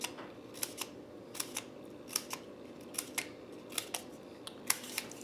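Scissors snip small cut marks into the edge of a paper heart box piece, a series of sharp, close clicks spaced about every half second, steady and alone with no talking.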